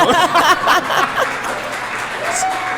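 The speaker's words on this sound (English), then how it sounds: "we do need to clap for that" Audience applause at a podcast speaker event breaks out with a brief burst of cheering and laughter, then settles into steady clapping that continues to the end.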